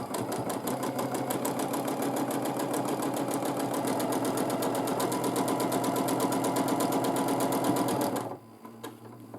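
A sewing machine stitches a wavy quilting line on fabric with blending thread, a loud, rapid, even needle rattle that runs continuously for about eight seconds before stopping.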